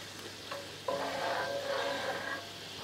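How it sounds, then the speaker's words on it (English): Rice wine sizzles and reduces in a hot pan with a soft, steady frying hiss. Faint scraping stirs sit on top. Quiet and continuous, with no voices. "you just want to let that rice vinegar or that rice wine cook until it's kind of syrupy"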